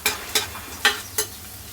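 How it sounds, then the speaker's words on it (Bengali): Noodles in a pan give off a soft frying hiss broken by four quick stirring scrapes spaced evenly, close and fairly quiet. "সাইফানের জন্য নুডলস রান্না করতেছি।"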